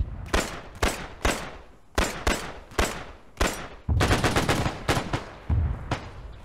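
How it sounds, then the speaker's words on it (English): A 30-06 rifle firing in ArmA 3, loud sharp shots spaced about half a second apart, then a faster burst of overlapping gunfire with a few more single cracks, no voices. "Surprised my 30-06 can't shoot through his wall"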